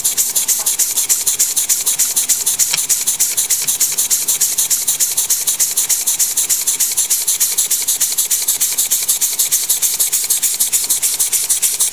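An educational model engine with a cam mechanism and flywheel runs continuously, giving a fast, even train of light mechanical ticks and rubbing clicks at close range with no talk.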